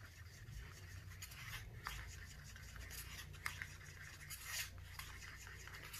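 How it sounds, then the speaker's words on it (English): A stick stirs freshly mixed resin in a small cup with soft, continuous scraping and swirling, close and quiet, with faint clicks against the cup. "Give that a stir."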